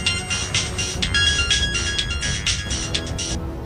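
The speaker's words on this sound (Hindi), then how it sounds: "ये लो तुम्हारी मम्मी का कॉल आ रहा है।" A mobile phone rings with an incoming call from mom, playing a bright electronic melody that repeats steadily for several seconds, clear and fairly loud with no talking over it.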